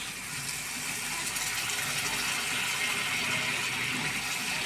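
Water pours into a pan of carp fish curry as it cooks, a continuous close gushing splash that holds steady throughout.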